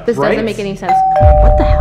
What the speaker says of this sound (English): That was the doorbell